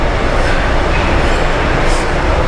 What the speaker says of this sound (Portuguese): Porque é um trenzinho menor que o metrô.